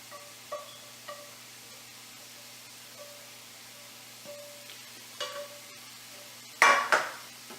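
A utensil stirs pre-cooked sausage into mushrooms and spinach in a pan, a few soft scrapes and clinks at intervals over faint sizzling, ending in a louder clatter.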